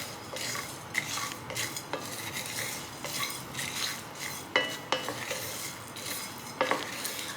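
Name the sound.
biryani masala spices being dry-roasted and stirred in a pan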